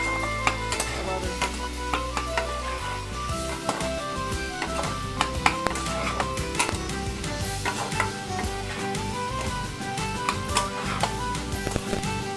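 Capsicum and green peas fry in a hot pan while being stirred, giving a steady close sizzle with frequent scraping and clinking of the spoon against the pan.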